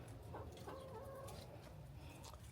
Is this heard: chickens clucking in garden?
yes